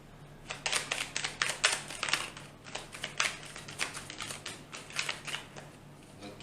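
Tarot cards riffle and snap in a run of crisp, papery bursts as the deck is shuffled and cut, close and fairly quiet over a faint steady hum, with no talking.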